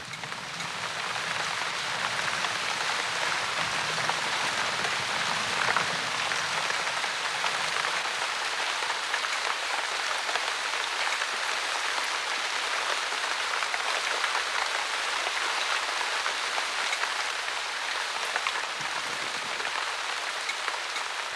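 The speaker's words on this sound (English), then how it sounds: "The rain pounds away for 2 hours" Heavy rain pours down steadily, a dense unbroken hiss of water drumming on surfaces that continues without letup.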